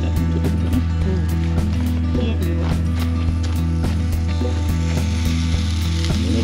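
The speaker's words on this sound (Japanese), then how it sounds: "すごいジュージューいってる。" Fish sizzling on a grill at a day camp at Tashiropia Campsite, Seseragi Park, Aomori, a constant loud crackling hiss with sharp ticking pops, heard alongside a steady low hum.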